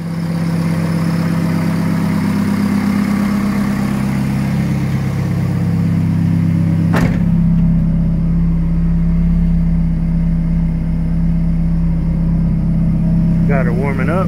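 A 1989 Honda Civic with a swapped B16 engine idles steadily while warming up, a low, even rumble; a brief sharp click partway through, and faint chirpy noises near the end.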